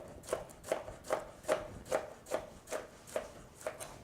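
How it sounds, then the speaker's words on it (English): A knife slices peeled bananas into pieces for a banana dessert, each cut landing on the board in an even, steady rhythm of about two per second, close and moderately loud with no talking. "you're just going to slice them"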